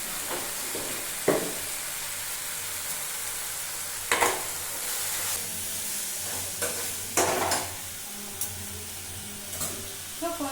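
Vegetables sauté in a hot pan for a cauliflower dosa side dish, giving a steady close sizzle with several sharp scraping stir strokes spread throughout, no voices.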